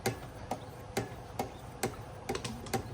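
A blade strokes rhythmically across a whetstone, about eight short scraping swipes at a steady pace, close up and unaccompanied by voices.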